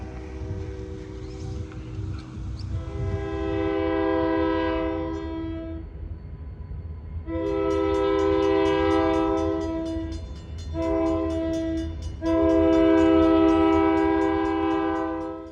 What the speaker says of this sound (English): The same train is now coming through Junction City on street trackage down Holly Street.